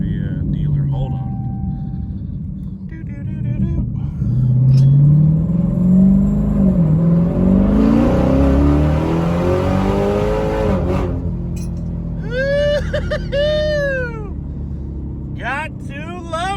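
A Dodge Demon's engine revs hard and accelerates, with a loud, deep rumble that climbs and falls in pitch and then settles into idle, heard close up from inside the car alongside brief talk.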